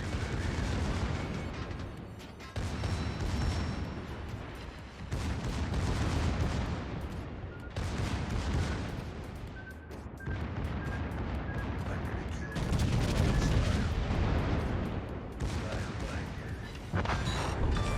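Heavy naval gunfire from the Tier IX German premium battleship Pommern in World of Warships, dense continuous booming salvos and battle noise over 18 seconds, loud and near, with a voice talking over it.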